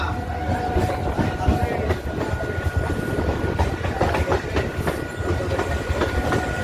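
A passenger train runs from Krishnanagar City toward Amghata with a steady, close rumble and rhythmic clickety-clack of wheels over rail joints, continuous throughout.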